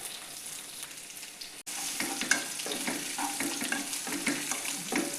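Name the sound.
green chillies frying in a pan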